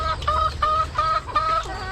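Roosters cluck in a quick repeated series of short, bright calls, close by, with a low hum underneath.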